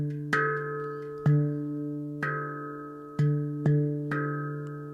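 Handpan played alone in a sparse rhythm without ghost notes, single resonant tones struck roughly once a second, each ringing and decaying with clear gaps between hits.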